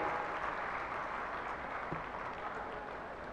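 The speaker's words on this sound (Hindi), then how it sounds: "एक बार जोरदार तालियां सर के स्वागत अभिनंदन में" Audience applause welcomes a newspaper's chief editor at a lecture event, a faint, steady wash of distant clapping that continues evenly for a few seconds.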